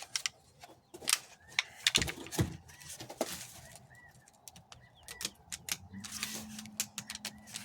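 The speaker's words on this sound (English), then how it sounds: "if you're hearing that noise, is I'm giving the plugs in the bottom just a little bit of a squeeze to kind of free them up" Hybrid plant plugs being freed by squeezing the bottoms of plastic pots, giving a run of crisp plastic crackles and clicks up close, with faint birdsong in the background and no talking.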